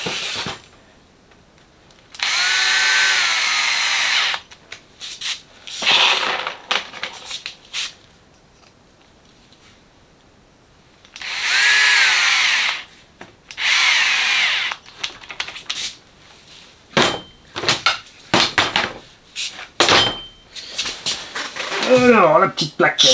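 Power screwdriver driving screws while a Yamaha X-Max scooter is reassembled, sounding in several separate whirring bursts a few seconds long with pauses between them, and someone talking in the gaps.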